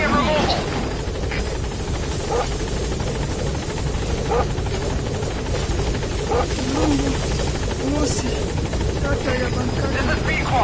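A support helicopter in Metal Gear Solid 5 thunders close by with a loud, continuous rotor roar, punctuated by bursts of gunfire and radio chatter.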